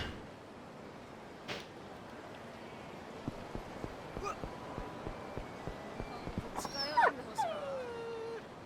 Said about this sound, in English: Was that a dog?